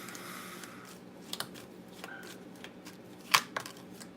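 Tarot cards being shuffled and drawn during a live reading: soft papery riffles and slides, a few brief card snaps, one sharper flick near the end, close and quiet with no talking.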